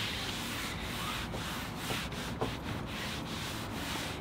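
White paint being rubbed by hand into a wood veneer tabletop for a barn wood finish, a steady close scratchy rubbing that runs continuously with a few brief soft scuffs, no talk.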